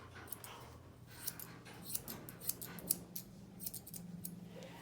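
Grooming scissors snip repeatedly at the leg feathering of a double-coated dog, a series of close, crisp cuts at an uneven rhythm over quiet background.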